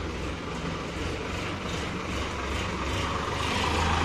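A tractor rumbles steadily while driving off toward a farm field, a continuous low mechanical drone with rattling that grows slightly louder toward the end, with no talking.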